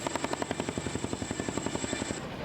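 A CH-47SD Chinook helicopter flies overhead during a national day flypast rehearsal, its twin rotors producing a fast, steady, rhythmic thumping with a high engine whine, fairly close and alone.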